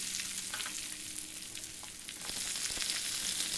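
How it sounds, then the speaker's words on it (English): Green chilli and curry leaves sizzle in hot oil with cumin seeds and coriander leaves in a pan, a steady close crackling hiss with small pops, heard alone. "fry it well."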